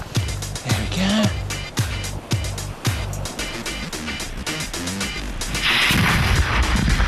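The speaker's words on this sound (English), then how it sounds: "These cannons fire smaller balls, which go faster, so they should be more accurate." Cannons firing smaller balls let off a rapid series of loud, close booming shots, roughly eight in quick succession, followed by a rushing, hissing roar near the end.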